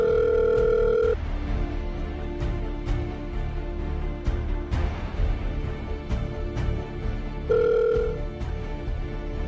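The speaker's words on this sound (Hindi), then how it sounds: "कब से फोन लगा रहा हूँ, फोन क्यों नहीं उठा रहा?" A telephone ringback tone sounds twice, a steady electronic beep at the start and again near the end, with quiet clicks and background noise between.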